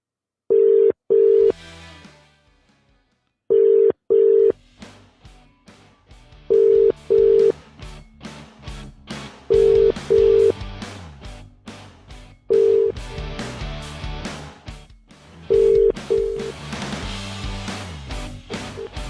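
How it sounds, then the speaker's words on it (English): A mobile phone call being placed, with repeated paired ringback tones sounding at even intervals, loud and close, between stretches of quieter line noise. "So I'm going to make this call to Joe Taylor now"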